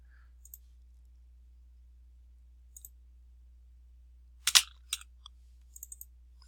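Sparse computer mouse clicks in a quiet room over a low steady hum, with a quick double click in the middle and a short run of light clicks near the end.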